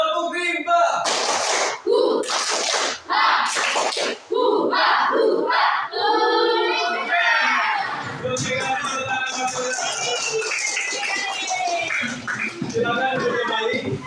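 Group of participants at a community activity performing the tepuk rimba clapping chant, loud rhythmic bursts of claps and shouted voices in unison, followed by a louder stretch of crowd shouting and cheering.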